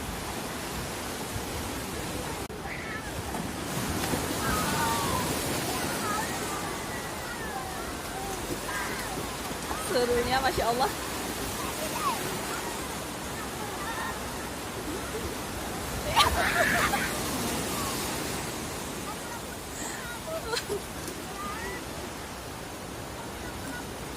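Waves wash steadily onto the shore at Pantai Harmoni beach in Aceh Besar while children bathe in the sea, a continuous broad surf roar with occasional louder splashes and distant voices mixed in.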